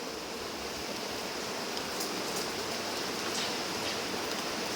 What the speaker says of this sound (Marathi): नाला सुपारामध्ये पाऊस पडतोय